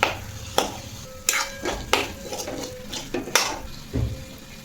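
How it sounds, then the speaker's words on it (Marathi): A spoon scrapes and knocks repeatedly against a metal pan in an irregular rhythm, close up, as boiled potatoes and peas are stirred and mixed. "हे सर्व मिक्स करून घेऊ आपण।"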